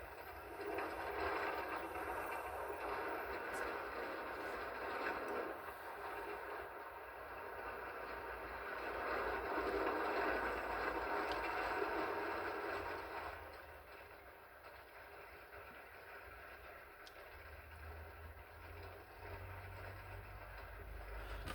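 A dragon-themed roller coaster in the game Planet Coaster climbs its first lift, a steady rumbling, clattering train-like roll that swells midway and then eases to a lower hum.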